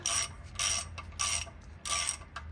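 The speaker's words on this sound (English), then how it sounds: "turn this bolt in, and then it's gonna push the rotor out" Ratchet wrench clicking as a bolt is turned to push a rear brake rotor off a Toyota 4Runner, four bursts of rapid ratcheting with short pauses between them, close up, no talking.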